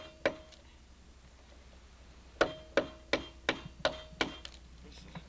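A chisel knocks a small knot off a log while a log cabin goes up in Appalachian West Virginia. One early sharp knock is followed after a pause by a quick series of six crisp, woody strikes, close and ringing against a quiet background.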